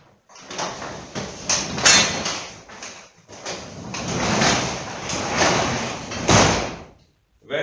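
Garage door being lifted up and down by hand, a long rolling rumble with clattering panel bangs, pausing briefly in the middle before rumbling again and ending with a thud.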